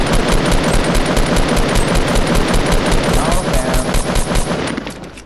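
Rapid, dense gunfire from a shotgun in the video game Fortnite, loud and continuous, with a steady stream of shots fading slightly at the end while players talk over it.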